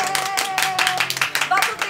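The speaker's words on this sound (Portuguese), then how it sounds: "Salve de palmas pra ela." A studio audience claps in a steady burst of applause for a guest on a Brazilian talk show, loud and close, with some sustained tonal sound underneath.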